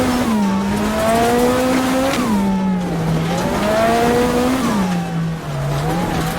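A Lancia Delta S4 Group B rally car climbs the Transfagarasan mountain road. Its engine is loud and close, revving up repeatedly in rising sweeps with brief drops between gear changes, and no voices are heard.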